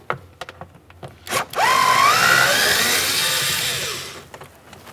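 A power driver fitted with a T25 bit backs out door handle bolts on a 2007-2017 Jeep Patriot interior door, with a few short clicks and bumps, then one sustained whirring run of a couple of seconds, close and alone.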